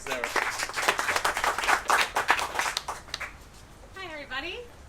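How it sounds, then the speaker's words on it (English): A room of event attendees in Split, Croatia gives a short round of applause for a speaker named Sarah, lively clapping that peaks and fades after about three seconds, followed by a voice speaking. "Round of applause to Sarah."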